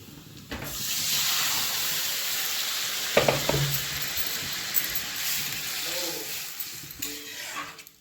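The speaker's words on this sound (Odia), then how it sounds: "ଏବେ ଡାଲିଟା ଛୁଙ୍କ ମରା ହେବ।" Hot oil tempering for boiled dal, a steady close sizzling hiss that flares after a brief quiet start, with a few clinks and faint background sounds.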